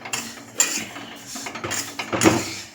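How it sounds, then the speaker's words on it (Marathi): Sesame seeds are stirred and roasted in a hot iron kadai, heard as scattered scraping and clattering of a spatula against the pan with a few sharper metallic knocks, close up and without talk. "हे बघा असे तीळ मस्त भाजून घ्यायचे."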